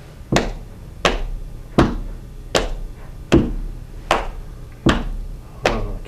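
A steady drum pattern of sharp, evenly spaced hits played with foot and hands, about eight strikes with a low thump beneath, played alone at a relaxed tempo.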